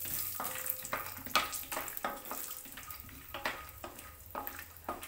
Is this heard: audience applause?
no